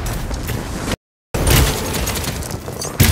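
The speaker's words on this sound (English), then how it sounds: "You're firing on me." Gunfire in the Paladins video game rattles as a loud, dense barrage of shots and booms, broken by a short dead gap of silence before the heavy firing picks straight back up.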